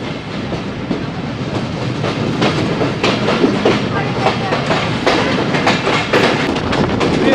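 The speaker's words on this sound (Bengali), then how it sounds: "আমরা কিন্তু এই প্রকৃতির মাঝ দিয়ে ছুটে চলেছি মোংলা কমিউটার ট্রেনে" A Mongla Commuter local train runs from Jashore toward Khulna, its steady rumble and rhythmic clickety-clack of wheels on rail joints filling the carriage at close range, loud and continuous.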